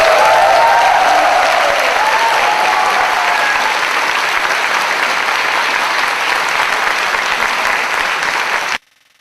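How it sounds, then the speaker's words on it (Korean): A large lecture audience gives a sustained burst of loud, dense applause after a two-hour talk with a former minister, the clapping steady throughout with brief whoops at the start before it cuts off abruptly. "한 번 더 뜨거운 박수 부탁드립니다"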